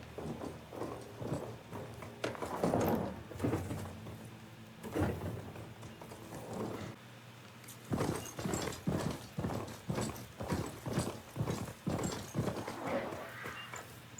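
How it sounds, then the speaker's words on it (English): Horse hooves clip-clop in the video game Horizon Forbidden West, a near, fairly loud series of rhythmic hoof falls that pause briefly and then pick up into a steady trotting beat with no talk. "I have a horse. Come on, horsey."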